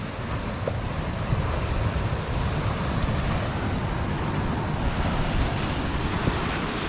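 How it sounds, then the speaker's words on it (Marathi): Rough, swollen sea after two days of heavy rain sends waves crashing onto the shore in a continuous loud roar, with wind buffeting the microphone throughout and no talk over it. "बघा लाटा बघा"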